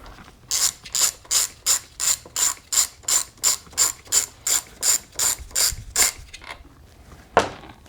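A ratchet wrench with a 10mm socket loosens the nuts on a John Deere RCS400 trimmer combo, about fourteen quick, even bursts of clicking in a steady rhythm, close and clear, then a single sharp knock near the end.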